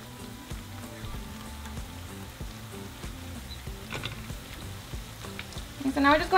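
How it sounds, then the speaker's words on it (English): Tortilla triangles fry in hot oil for chilaquiles, a steady soft crackle and sizzle with a brief louder burst of spattering near the end. "now we're just going to fry them until they turn into a beautiful golden color"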